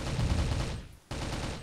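Rapid bursts of gunfire from the shooter video game Crossfire rattle continuously and close, pausing briefly before resuming, with no talking.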